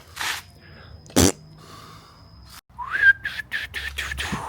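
A person whistles while cleaning a motocross bike, giving a short, wavering run of clipped, breathy notes near the end, after some scattered handling noises.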